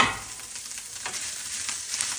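Mackerel frying in a pan with garlic for fish sisig, a steady close sizzle and crackle with soft stirring scrapes, no voices.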